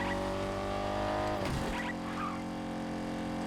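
Car in the Fortnite video game, with a steady droning engine hum that is briefly broken by a sharp tire squeal and skid midway, then settles back into continuous engine noise.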